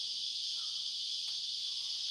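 Cicadas chirp in bright summer sun in Sydney, a dense, steady high-pitched drone that runs unbroken and fairly loud throughout, with no talking.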